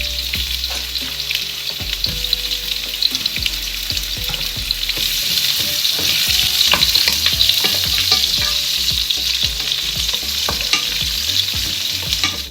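Garlic and onion fry in a hot pan while being stirred for a chicken soup, a continuous close sizzle broken by frequent scraping, clattering strokes of the utensil.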